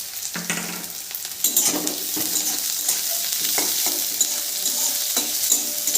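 Sliced onion and green chilli frying in hot oil with cumin seeds, a steady loud sizzle broken by spatula stirs and scrapes against the pan, close and without voices.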